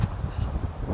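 Strong wind blowing through a pine grove gusts across the microphone in a steady low roar, close and buffeting throughout with no other clear sounds.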